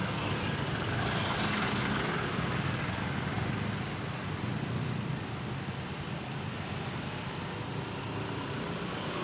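Dense, steady roar of a traffic jam on a Jakarta road, a continuous rumble of engines from trucks, buses and cars with a faint air brake hiss, heard close from a motorbike and with no talk.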